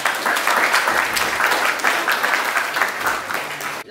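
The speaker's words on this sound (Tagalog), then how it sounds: "Lalakpakan po natin." Wedding guests in Unisan, Quezon Province burst into sustained applause, a dense wash of many hands clapping steadily at close range for the whole stretch, fading only at the very end.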